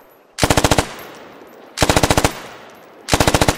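Machine gun fire in the military shooter game Squad, three loud close bursts of about six rapid rounds each, separated by short pauses.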